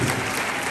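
Audience applause at a national cybersecurity challenge event in Ghana, a dense, steady burst of clapping from a crowd, loud and continuous through a brief moment with no voices on top.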